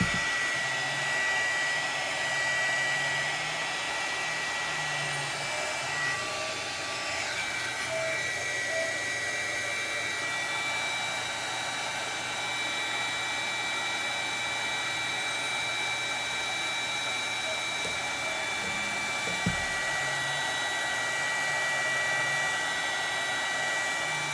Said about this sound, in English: So now we're going to change the direction of which the motor is spinning.